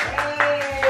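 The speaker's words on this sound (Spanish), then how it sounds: "Aplaudan, aplaudan." Three quick claps from a small indoor audience, close and sharp, with a faint voice in the background.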